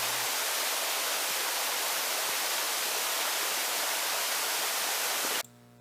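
Rushing water of a mountain stream in the upper Jingwansa valley on Bukhansan, a steady broadband roar filling the whole span before cutting off abruptly near the end.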